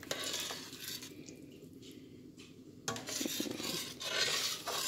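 A spoon stirs vegetable soup thickened with cornflour in a pot, making soft wet swishing and a few light scrapes against the metal, quiet and close with no talk.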